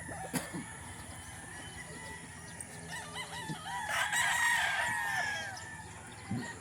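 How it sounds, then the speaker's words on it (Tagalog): A rooster crows loudly in the middle, with hens clucking softly around it against a quiet farmyard background. "Ang ganda ng manok."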